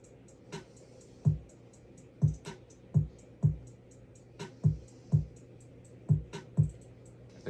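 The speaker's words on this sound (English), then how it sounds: "After that, I went into a hi-hat." A programmed drum pattern from an FL Studio beat plays alone, with crisp ticking hi-hats running over a steady rhythm of punchy low kicks, about two hits per second, loud and close.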